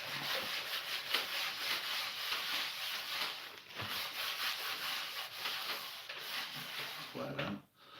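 Paper towel rubs over a cutting board in a kitchen where smoked salmon is being prepared, a soft continuous scrubbing and wiping with short pauses, close by, while someone talks.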